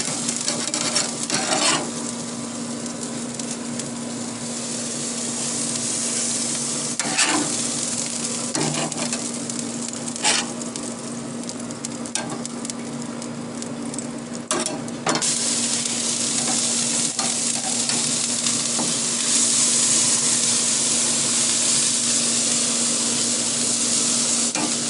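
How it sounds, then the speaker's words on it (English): Grease dripping onto hot charcoal in a smoker, sizzling and crackling steadily with a constant close hiss and occasional sharper pops throughout. "Why I put the grease down on the coals"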